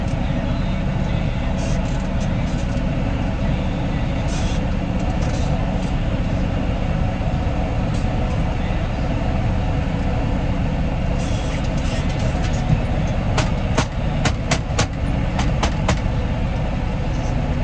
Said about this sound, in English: Panels rattling.